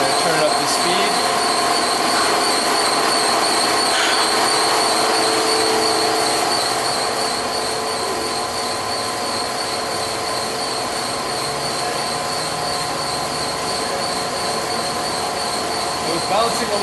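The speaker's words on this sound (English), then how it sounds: "This is the speed control on the drive. I'm going to turn up the speed." A hot knife slitting machine runs at increased speed, giving a steady loud mechanical whir with high-pitched whine and faint squealing throughout, with no breaks.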